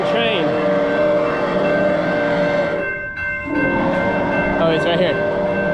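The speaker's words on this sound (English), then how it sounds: "The dang train." A loud train rolls past near a beach, its steady rumble filling the clip, with a short horn or whistle blast near the start, a brief dip in the middle and a short toot near the end.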